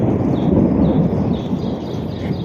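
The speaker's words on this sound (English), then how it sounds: "did you catch the thunder in the background?" Thunder rolls low and continuous during an outdoor rain-out, a steady heavy rumble with rain hiss over it, loud and sustained throughout.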